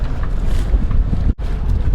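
A sailboat motors straight into the wind, a loud low engine drone blended with heavy wind buffeting on the microphone, continuous apart from one brief dip.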